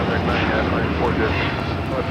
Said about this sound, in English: Flight 125, taking off to Tokyo Haneda on the 787-9 Dreamliner in the Star Alliance livery